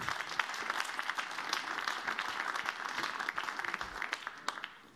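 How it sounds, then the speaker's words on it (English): Applause for billiard players at a women's World Team Trophy carom match, France against Team Asia, a soft, steady patter of clapping from a crowd that fades out toward the end. "pour la France, nous applaudirons Severine, Titaux et pour l'Asie, Carom, Kim."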